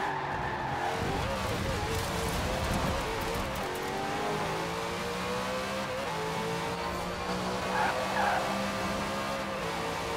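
A roughly 900-horsepower car in the racing game Forza Horizon 4, its engine roaring and screeching tyres skidding early, then a sustained high revving drone as it accelerates hard, loud and steady throughout.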